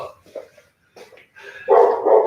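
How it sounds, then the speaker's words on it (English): A dog barks indoors in a room, with a couple of soft yips early on, then a run of loud, close barks in the last second. "Stop all that barking for nothing."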